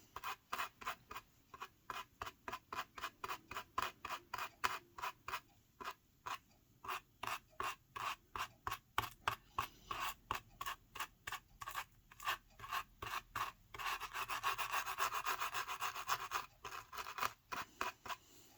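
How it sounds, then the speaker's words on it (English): Product is rubbed by hand into a banded book spine in a quick, regular series of dry scratchy strokes, close and fairly quiet, with a denser burst of rubbing near the end. "And you just rub that baby in."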